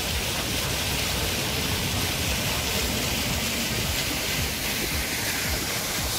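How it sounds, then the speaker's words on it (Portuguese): Water cascades over natural stones at a large monument waterfall in Caldas Novas, a steady, dense rushing roar that stays close and constant throughout with no voices. "E aqui nós chegamos à grande cascata do monumento."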